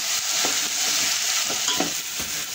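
Masala rice (masale bhat) with mutton masala, onion-garlic masala and turmeric is stir-fried in a pan: a steady, close, broadband sizzle with soft scraping strokes of the spoon every half second or so. No talking.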